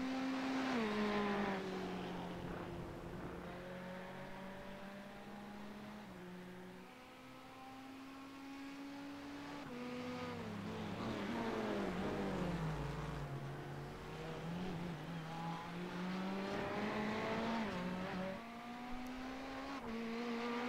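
Sports cars racing, the number 30 Ferrari leading its class, with engine notes rising and falling through shifts as several cars roar past, loud and continuous throughout.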